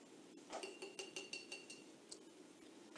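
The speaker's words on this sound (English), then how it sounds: "I'm gonna wash my brush." Paintbrush being washed in a glass jar, a quick series of bright clinks and taps as the brush knocks against the glass, close and fairly quiet, then a couple of lighter taps.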